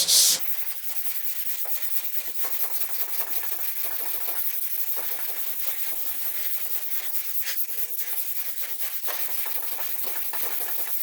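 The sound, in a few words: hand block sanding polyester primer on a 1940 Ford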